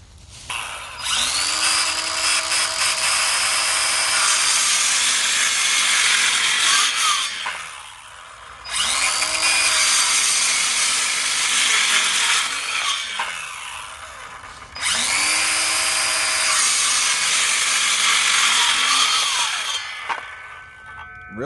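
HART 20V 6 1/2-inch cordless circular saw ripping through 2x4 lumber in three loud, close bursts, each motor whine spinning up, cutting steadily for several seconds and winding down, with short pauses between cuts.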